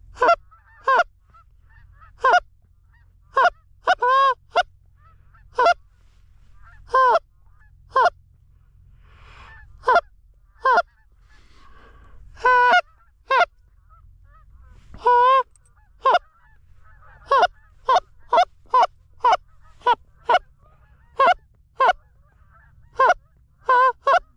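Canada geese honk repeatedly in flight in sharp, loud calls, sometimes in quick clusters, with quiet gaps between bursts and faint low background noise.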